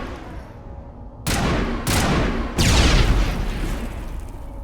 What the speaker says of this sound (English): So watch, that's a grenade.